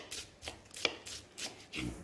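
Finely chopping an onion with a kitchen knife for a bolognese, about six crisp, evenly spaced knife strikes on a board, close and clear with no speech.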